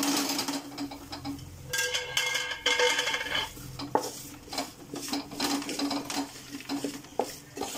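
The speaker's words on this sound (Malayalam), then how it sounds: "ഇനി നമുക്കിതെല്ലാം കൂടി ഒന്ന് നല്ലപോലെ ഒന്ന് മിക്സ് ചെയ്ത് കൊടുക്കാം" Mutton curry with spices stirred in a pot, a spoon scraping and clattering against the metal in quick irregular strokes over a faint sizzle, close up and without talk.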